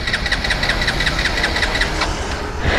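A Hero Xpulse 200 4V motorcycle cranks but fails to start, its starter churning in a rapid, even rhythm for nearly three seconds, loud and close, with no engine catching.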